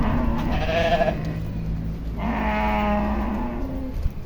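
Lambs separated from their mothers bleat loudly in two long, wavering calls with a pause between, close by over faint farmyard background.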